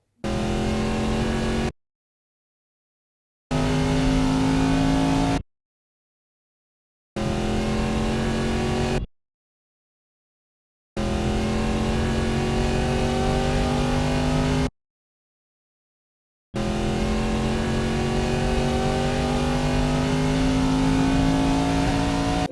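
A car engine revs hard and accelerates on a highway while overtaking, with a loud, steady drone and rising pitch, cut into several separate segments.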